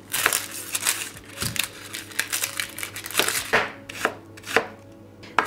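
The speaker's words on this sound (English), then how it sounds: "I've got some garlic here, which you just smash and peel and then chop up." Garlic and onions chopped with a knife on a board, a quick irregular series of close, crisp crunching taps and thuds, loud and alone without any talk.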